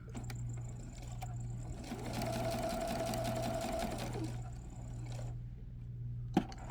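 A sewing machine stitches bias tape to a garment neckline in a quick, steady whir for a couple of seconds, starting and stopping, over a low background hum, with a sharp click near the end.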